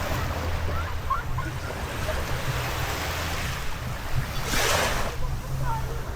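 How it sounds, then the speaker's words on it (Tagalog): Gentle surf at Boracay beach on a calm day, a soft continuous wash of small waves close by with a slightly louder swell midway, mixed with faint wind buffeting the microphone. "Yung waves, pa, medyo calm."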